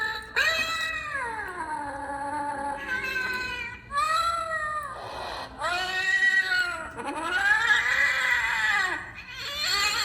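An electronic skeleton cat Halloween decoration gives a series of long, wavering, eerie meows, loud and close, with short pauses between them.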